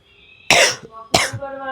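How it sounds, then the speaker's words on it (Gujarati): A person coughs twice at close range, two harsh bursts about half a second apart, with a quiet pause between them and faint background sound. "મને કાંઈ એટલી ઉધરસ થઈ ગઈ ને, બહુ જ ઉધરસ થઈ ગઈ"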